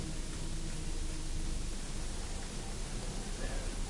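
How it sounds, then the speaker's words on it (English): Steady hiss of white-noise static in the horror game Lone Survivor, a dense continuous wash with no breaks. "White noise."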